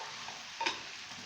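Chopped green chillies are stirred into aloo gobi sizzling in a pan, a brief spoon scrape over a steady frying hiss.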